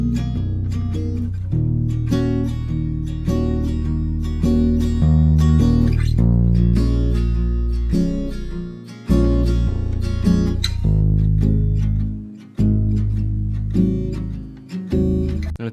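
Deep synth bass in an ambient pop track, holding long root notes that shift between pitches and octaves in slow, sustained phrases, loud and alone with brief gaps between notes.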